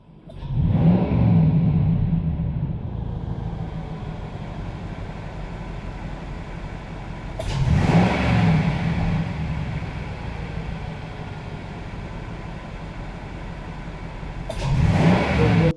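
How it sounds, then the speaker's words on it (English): A car engine runs with the BG rabbit tool feeding intake cleaner chemical, swelling into three loud throttle revs spaced several seconds apart over a steady idling rumble. "You can hear the rabbit tool,"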